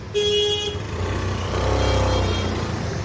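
Cars and motorbikes pass along a busy Delhi street at night, a short horn toot near the start followed by a swelling, steady rumble of traffic engines close by.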